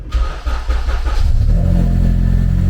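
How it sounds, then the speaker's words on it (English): A K20-swapped Honda Civic engine cranks and fires up, then settles into a loud, steady, throaty idle with a low rumble that fills the rest of the moment. "So let's just start the car"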